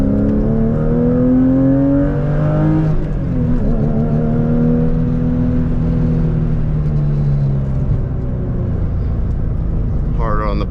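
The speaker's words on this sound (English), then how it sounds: "So we're gonna take things down into second gear" A Porsche 99x engine revs hard and loud in second gear on a canyon road, pitch climbing then dropping and climbing again with gear changes, close and steady throughout with a brief rising whine at the end.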